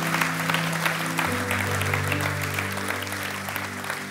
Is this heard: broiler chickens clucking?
no